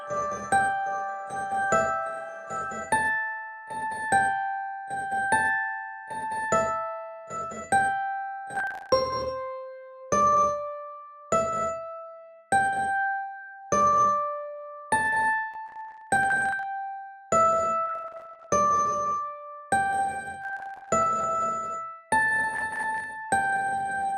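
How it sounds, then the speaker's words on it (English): Bright metallic chime-like tones ring out one after another in a steady pattern, each note decaying with a shimmering, reverberant tail. "Now we're getting like a ringing metallic sound."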